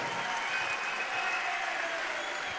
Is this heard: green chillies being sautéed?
no